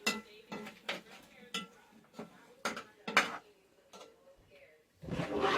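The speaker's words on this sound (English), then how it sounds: "We're just going to stir that all together." Utensil scraping and clinking against a pot as buttered macaroni with ham, eggs and meat is mixed, in repeated short strokes with brief pauses, close and moderately loud.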